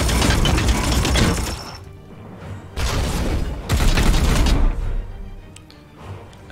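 Gunfire and blasts in Warhammer 40,000: Chaos Gate Daemonhunters, heavy bursts of shooting in three loud waves separated by brief quieter gaps, with crackling, shattering impacts and no talk.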